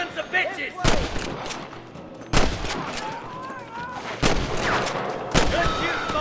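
Gunfire crackles through a Western shootout in Red Dead Redemption, with several sharp, loud shots and bursts spaced over a few seconds against a busy background of ambient game sound and distant yelling.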